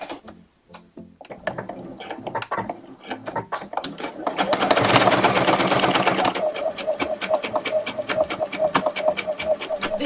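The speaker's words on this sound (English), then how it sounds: "I'm just going to continue sewing all the way down to meet the first ditch line that I did." A sewing machine stitches down denim jeans being refashioned into a maxi skirt, its steady rapid needle rhythm running close and loud for most of the stretch, building in intensity partway through.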